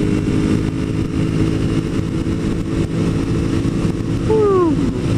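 A sport motorcycle engine runs hard in the power band around 7,000 RPM on a road ride, a steady buzzing drone with wind rush and a brief rising whine near the end.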